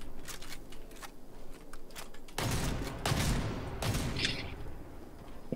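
Gunfire in the video game Fortnite, a string of sharp shots and heavier booming bursts, loud and close, with no voices.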